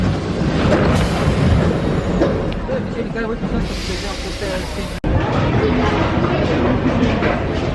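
Riding a Paris metro train, with a loud rumbling hiss of the moving carriage, rattles and a sharp clunk partway through, while people talk over the noise.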